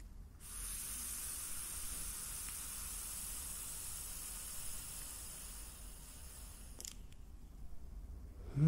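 A long exhale of nicotine custard-flavour e-cigarette vapour, a faint, steady airy hiss lasting several seconds before trailing off, with no voices.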